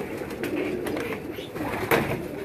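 Banded high-flying fancy pigeons coo in a low, continuous murmur nearby, with a few brief sharp clicks or wingbeat-like bursts breaking through.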